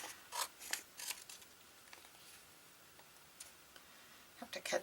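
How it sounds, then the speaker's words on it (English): Scissors trim paper signatures for a junk journal, producing a handful of short, crisp snips and rustles close by, irregularly spaced with quiet gaps between cuts. "Have to cut this one down."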